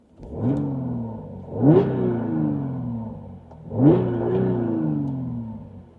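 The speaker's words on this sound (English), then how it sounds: "now that you can hear this amazing supercharger" A supercharged Audi B8.5 S5 engine revs up sharply three times, each rising whine settling back to a throaty idle between bursts.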